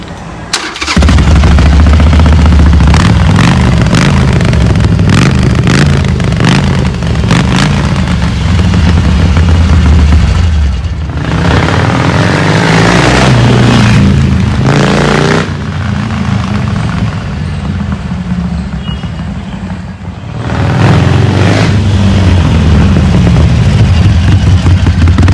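A Harley-Davidson Iron 883 motorcycle, fitted with accessories, starts and runs. Its loud, deep engine rumble fills the clip with revving swells and drops near the middle, all close to the microphone with no talking.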